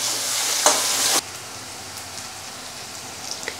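Onions and curry leaves sautéing in oil in a pan, a loud hissing sizzle with a quick stir that drops suddenly to a softer, quieter bubbling.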